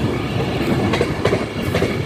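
Avanti West Coast Class 390 Pendolino 390009 rushes past near Carlisle, a loud, close roar of wheels with rapid rhythmic clatter over rail joints, no voices.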